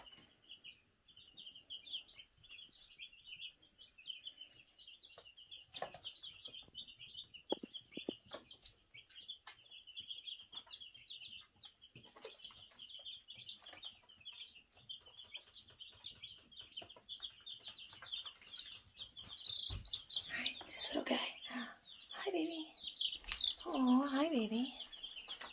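Young broiler chicks peep constantly in a high, dense chorus of chirps, close and continuous, with scattered rustling and handling noises, and people talking intermittently, louder near the end.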